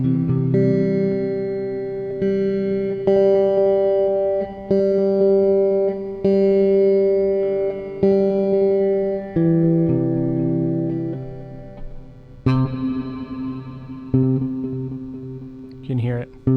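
MOOD effects pedal on guitar, with repeated chords echoing and then sweeping back together as the ramping modulation shifts, producing layered, warbling sustained tones that cut off and restart several times; a voice talks at points.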